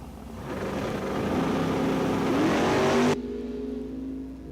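Drag race cars, a Camaro and a Vega, launch off the line with a loud, sustained engine roar that rises in pitch as they accelerate away, then cuts off abruptly near the end.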